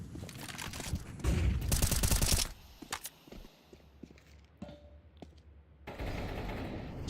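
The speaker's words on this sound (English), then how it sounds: "again with the sniper rifle" Gunfire in a Counter-Strike esports match, sniper rifle shots among bursts of game gunfire and scattered sharp clicks and steps at low level.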